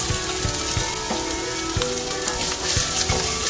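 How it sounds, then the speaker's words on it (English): Chopped onions and green chili sizzle steadily in a pan over medium flame, a continuous close frying hiss broken by occasional light stirring clicks. "Saute well in medium flame for 2 to 3 minutes"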